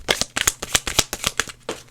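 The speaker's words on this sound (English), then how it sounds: "we'll do another good shuffle" Tarot cards are shuffled by hand in a quick run of crisp riffling flicks and soft slaps, close and fairly loud, with no speech.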